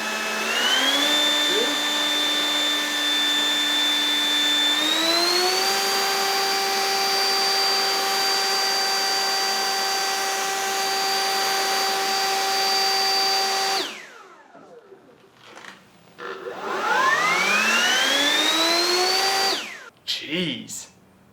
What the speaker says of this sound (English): what the third level is on this leaf blower